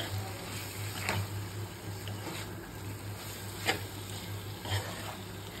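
Chicken wings fry in a pan under a soft, steady sizzle, with occasional scraping knocks from stirring and a faint electrical hum beneath.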